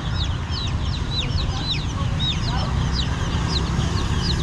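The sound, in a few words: chickens clucking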